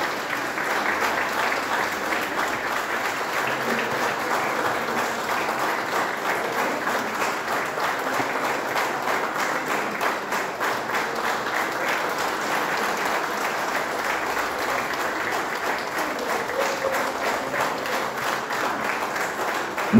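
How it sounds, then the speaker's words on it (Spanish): Sustained applause from a large audience, steady and even throughout with no pauses, a dense wash of clapping hands. "Vamos a regalarle un minuto de aplausos en vez de ese minuto de silencio."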